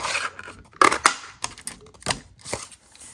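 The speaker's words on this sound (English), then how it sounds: "I'm going to take my 2-inch circle punch and cut this out." A 2-inch circle punch cuts through paper for a Halloween card, producing several sharp crunching clicks and rustles up close, with no talking.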